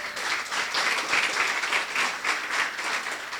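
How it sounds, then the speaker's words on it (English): An audience at a Providence mayoral candidates' forum applauds a neighborhood association with continuous, fairly close clapping that holds steady throughout. "give them a round of applause"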